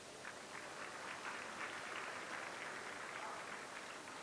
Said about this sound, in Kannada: ಒಂದು ಚಪ್ಪಾಳೆ ಇರಲಿ.